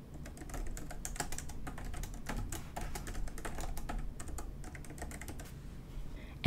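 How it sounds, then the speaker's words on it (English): Fast, continuous typing on a computer keyboard as a SQL query is entered, dense key clatter throughout at a modest level, close up and without talk. "let's type in select top 10 star from orders"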